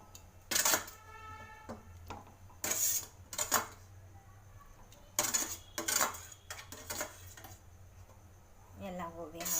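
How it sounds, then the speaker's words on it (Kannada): Steamed cauliflower (gobi) added to a pan and fried, with repeated metallic clanks and scrapes of utensil on pan in loud bursts and quieter frying between. "ಇವಾಗ ಎಲ್ಲ ಗೋಬಿನ ಹಾಕ್ಕೊಂಡು ಫ್ರೈ ಮಾಡಬೇಕು."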